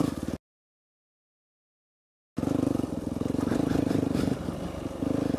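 Small 50cc dirt bike engine running steadily and loud up close, a buzzing idle-to-midrange drone that cuts out for about two seconds of silence, then resumes with slight revving fluctuations.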